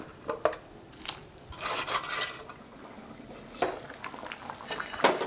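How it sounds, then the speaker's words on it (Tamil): Bubbling and gentle rattling from a pot of cauliflower kuzhambu (curry) boiling on the stove, with occasional soft clinks of a utensil, close by and without any talking. "இப்போ குழம்பு நல்லா கொதி வர ஆரம்பிச்சிச்சுங்க"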